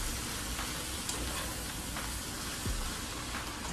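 Shredded cabbage frying in vegetable oil with onions and seasoning, a steady dense sizzle throughout, with faint stirring scrapes beneath it.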